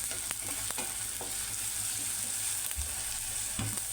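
Tomatoes frying in a pan for masoor usal, a steady close sizzle with occasional scrapes and stirring thuds, no talk.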